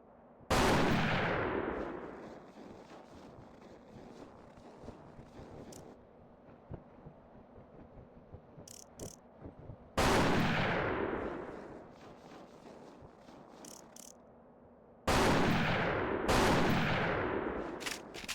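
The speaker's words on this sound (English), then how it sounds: "we're going to go ahead and equip the sniper rifle, and we're going to snipe a few guards up here at the entrance" Sniper rifle shots at guards at an entrance in The Thing Remastered on PC, three loud, sharp reports spaced several seconds apart, each with a long booming echo, and softer game ambience and clicks between them.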